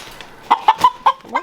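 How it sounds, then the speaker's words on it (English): A pasture rooster shut inside a barn gives a short run of five sharp clucks, close and loud in an otherwise quiet space, with no talking. "One of the pasture roosters seems to have gotten himself closed in the barn."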